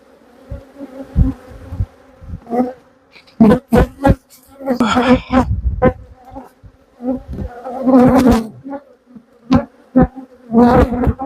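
Honeybees swarming around an open hive during a quarantine apiary inspection, a loud close buzzing that swells and fades in repeated bursts as bees fly past, with a little talk in the background.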